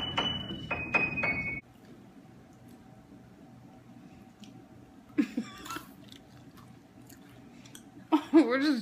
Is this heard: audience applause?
no